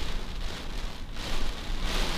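Heavy rain pours steadily at a port, a dense, even hiss of drops with a brief lull midway before it swells again, close and continuous with no talking.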